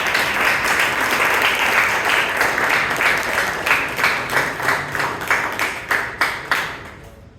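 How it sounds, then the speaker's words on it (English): A crowd claps in a dense, loud round of applause that thins out toward the end into separate, spaced claps. "a huge round of applause"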